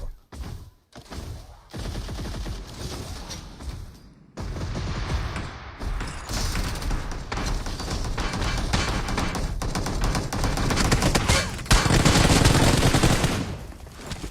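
Automatic rifle fire rattles in PUBG Mobile, with sustained bursts of shots growing louder toward the end amid game sounds and no talking.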